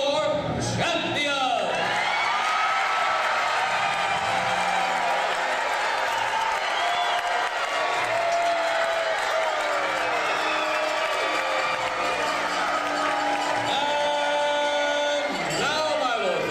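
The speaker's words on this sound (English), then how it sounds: "Raise a cheer for your champion!" A crowd in the arena of a medieval tournament show cheers for its champion, a loud, sustained roar of voices and whoops filling the whole stretch before fading near the end.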